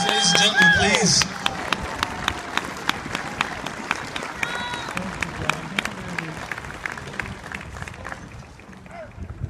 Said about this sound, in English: Big round of applause, ladies and gentlemen, please.